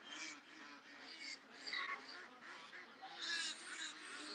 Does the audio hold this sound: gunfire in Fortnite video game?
no